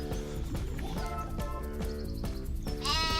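Sheep in Farming Simulator 2017 bleat repeatedly in a livestock pen on a farm map, overlapping wavering cries with a higher bleat near the end, no talk.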